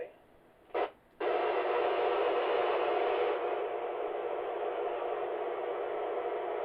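Amateur radio receiver on a club net with squelch switched off, a short click and blip followed by steady, fairly loud broadband static hiss that carries on unbroken.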